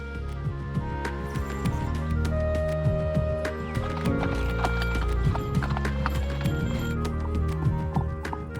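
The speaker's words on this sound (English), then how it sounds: "it was definitely special to get to see these temples during a carriage ride" Hooves of a carriage horse clip-clop steadily on a road past temples in Myanmar, an even trotting rhythm with wheel rumble, close and continuous with no talk.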